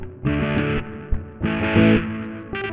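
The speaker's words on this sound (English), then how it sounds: "I want the distortion on this." Distorted electric guitar played through a PC amp simulator, chunky rock chords struck in short bursts with gaps between them, loud and close with no talk.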